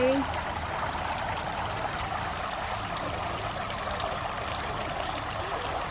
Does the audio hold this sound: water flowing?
yes